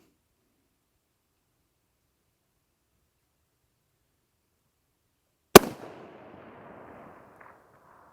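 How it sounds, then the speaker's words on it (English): A single sharp, loud gunshot from a Savage 6.5 Creedmoor Ultralite rifle cracks out after a long silence on an outdoor range, followed by a brief fading echo. "That is the first 3 shots I have fired at this morning."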